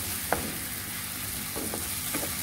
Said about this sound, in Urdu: اور اب میں ان کو 5 منٹ کے لیے بھونوں گی۔